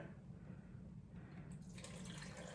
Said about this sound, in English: Now I'm going to add some filtered water.